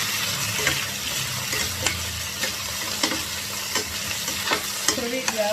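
Potato, brinjal and tomato fry in a pan while being stirred, a close bubbling sizzle broken by regular scraping strokes of a spoon roughly every second, with no talking.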